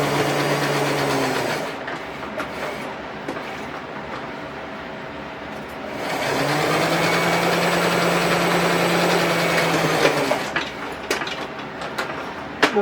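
Sewing machine stitching a quarter-inch seam on fabric for a neck phone pouch: a whirring, humming run of about two seconds, a pause, then a longer four-second run ending in small handling clicks.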